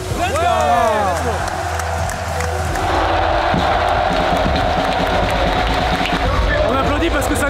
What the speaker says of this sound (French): On applaudit parce que ça nous arrange, mais on sait pas qui c'est.